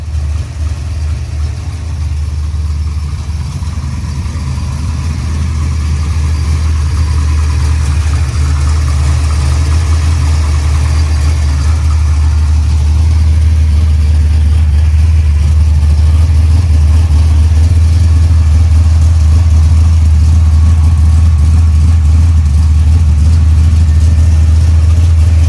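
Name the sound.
Monte Carlo Super Sport big block 502 engine idling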